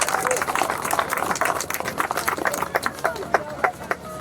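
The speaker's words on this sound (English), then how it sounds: "a round of applause to the city of Temecula" A crowd at an outdoor pump track ribbon cutting claps in scattered applause that thins toward the end, with voices murmuring underneath.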